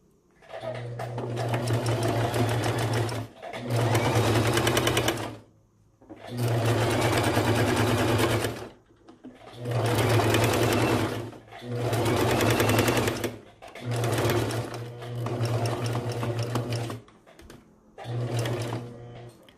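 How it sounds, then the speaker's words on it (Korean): A sewing machine stitches fabric for a baby bandana bib in repeated bursts of steady, rapid mechanical whirring, each lasting a couple of seconds with short pauses between as the fabric is turned, close up. "한 번 더 1cm 정도 남겨주고 노루발 들고 원단 돌려서 노루발과 원단 끝부분 맞춰준 후에 다시 박아주시면 돼요"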